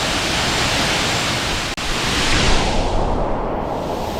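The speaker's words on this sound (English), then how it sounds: "La catarata muy hermosa, espectacular" Broadband roar of a waterfall in Bulusan, Sorsogon, steady and loud throughout, with a brief dropout near the middle before the rushing continues.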